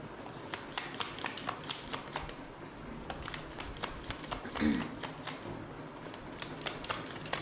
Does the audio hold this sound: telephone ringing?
no